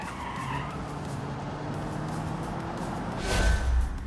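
Tires squeal and skid as a car understeers under throttle in the BeamNG driving game, a steady scrubbing hiss with engine drone that swells louder near the end.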